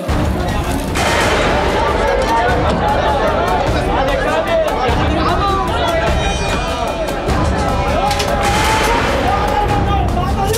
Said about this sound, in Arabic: صوت رصاص من هون؟